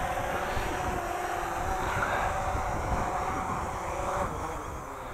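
A Simtoo Dragonfly Pro folding drone hums steadily with a whining propeller drone as it lands in gusty canyon wind, constant and fairly loud with wind noise mixed in.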